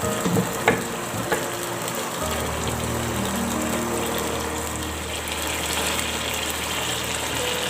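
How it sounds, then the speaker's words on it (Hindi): Chickpeas fry over raised heat in a pan for a chole aloo biryani korma, giving a steady, continuous sizzle that holds at an even level throughout, with a few faint clicks near the start. "इसको अच्छे तरीके से भूनेंगे और इसका कोरमा तैयार करेंगे"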